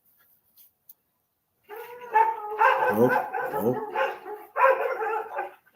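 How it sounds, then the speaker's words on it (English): A dog barks wildly in a rapid, loud burst of overlapping yips and barks close by, with a short exclamation from a person near the start. "The dog's gone wild."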